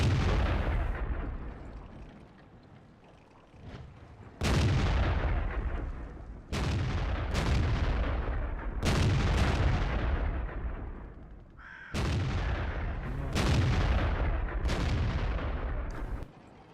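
Artillery guns firing in the tank video game World of Tanks: about eight heavy booms spaced a couple of seconds apart, each with a long echoing tail, loud and close, with no talking.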